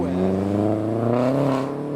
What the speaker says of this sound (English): there's a Murcielago on Swiss plates from out of